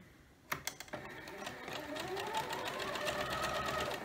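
A sewing machine runs a scant quarter-inch seam through quilt fabric for a scrappy quilt: a few clicks as it starts, then a steady, close whirring hum of continuous stitching.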